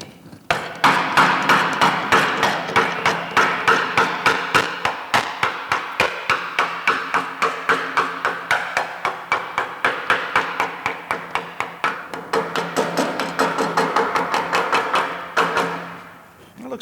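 Hammer tapping on sheet metal, a rapid, even series of sharp metallic blows, close and loud, running almost without pause for about fifteen seconds before stopping.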